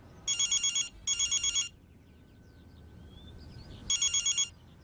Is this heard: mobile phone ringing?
yes